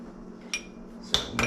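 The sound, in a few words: mixing tartar sauce with vinegar and lemon juice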